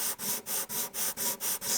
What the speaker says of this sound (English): Wrap the sandpaper around it, get it as flat as possible, and holding it firmly on the surface,